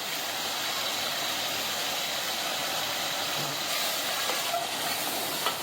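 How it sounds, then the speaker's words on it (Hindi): Diced potatoes and half a bowl of yogurt fry in a pan for a restaurant-style egg and potato curry, giving a steady, even sizzle and hiss that continues unbroken throughout, with no voices. "अब इसे हम 3 से 4 मिनट के लिए भून लेंगे"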